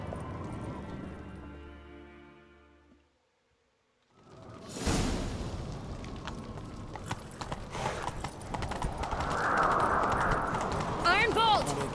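Galloping hoofbeats in The Witcher 3: Wild Hunt thunder in after a brief silence, with whooshing movement and a voice shouting over the rapid clip-clop.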